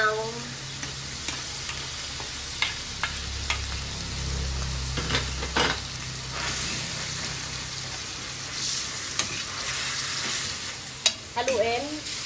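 Bicol Express with shrimp paste is stirred in a pan: continuous close frying sizzle broken by repeated scraping and knocking strokes of the spoon, with a brief low rumble partway through.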